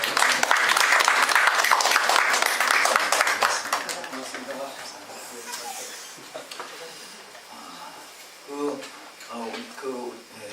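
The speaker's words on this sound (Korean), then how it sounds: "우리 잠시 일어나셔서 박수로 환영하겠습니다." A standing church congregation applauds in welcome, with dense clapping for the first few seconds that fades as people start talking over it.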